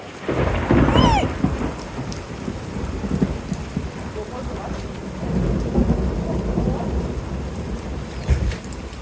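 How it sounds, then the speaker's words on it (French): A loud roll of thunder rumbles over steady heavy rain during a violent thunderstorm with wind and some hail, with a second swell of rumbling later as the downpour keeps drumming. "Aïe, il tonne"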